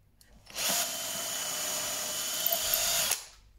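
A power drill bores a clearance hole into wood in a single continuous, loud, close whirr lasting about two and a half seconds, starting and stopping cleanly, with no speech.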